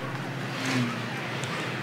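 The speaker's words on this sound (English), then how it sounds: "This highway recording makes no sense." Highway traffic ambience from the video game Towtruck Simulator 2015: a steady, fairly quiet rush of passing cars that holds an even level throughout with no distinct single pass-by.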